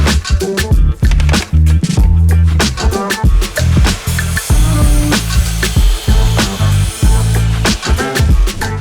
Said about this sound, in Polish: docinamy je na odpowiednią długość za pomocą piły ukosowej